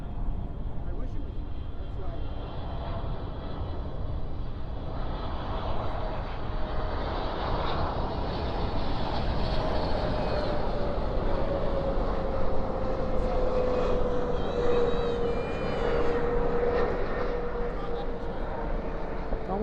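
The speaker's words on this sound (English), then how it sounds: "just love some good GE90 action. Spoilers up, reversers out." A GE90-powered jet lands at night with spoilers up and thrust reversers deployed, a steady broad roar with a rising whine heard at a distance while someone talks over it.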